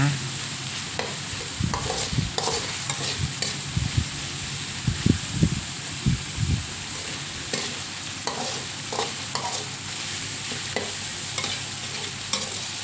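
Pork pieces stir-fried for a home-style cabbage and pork dish, with steady sizzling under a run of scraping, clattering stirs that come in bursts near the middle, close and fairly loud.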